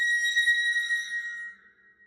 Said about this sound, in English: Poor Man's Waterphone.